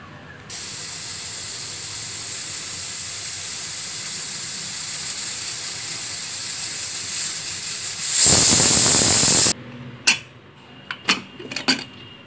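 Steady steam hiss with a high whistling tone builds in a pressure cooker on a stove cooking dal, then bursts into a loud, rushing whistle before cutting off, followed by a few light metallic clinks.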